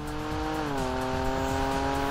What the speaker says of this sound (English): it sounds like heaven when you put it into sport mode, screaming a nice angry note